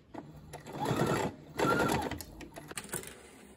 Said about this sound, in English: I'm going to take this down a few more stitches and then actually back tack, because I'm going to take it off the machine